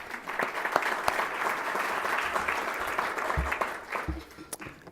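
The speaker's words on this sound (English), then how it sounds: "So let's give them a round of applause." Audience applause at a luncheon, a dense steady patter of many hands clapping from start to finish, fairly close and full, tapering slightly at the end.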